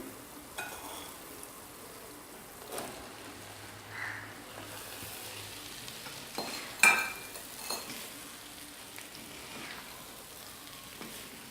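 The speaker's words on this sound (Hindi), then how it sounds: "एक से 2 मिनट के लिए हम इसको इसी घी में भूनेंगे" Chana dal stir-frying in ghee over low heat, a soft steady sizzle with occasional light scrapes and clinks of a spoon against the pot.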